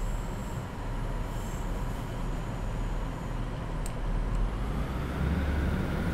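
A Class 150 diesel multiple unit pulling away in Train Simulator, a steady low engine drone and rolling wheel rumble that builds slowly, with a faint brief squeal midway and no talking.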